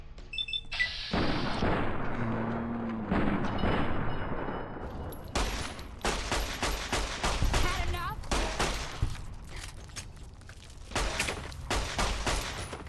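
Rapid gunfire in the video game Fallout New Vegas, dense volleys of sharp shots and booming blasts that repeat in bursts for several seconds, loud and close, with occasional speech underneath.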